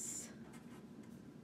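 A pen or marker scratches briefly across a paper Valentine card, a faint, close writing stroke lasting about a second, with no speech over it.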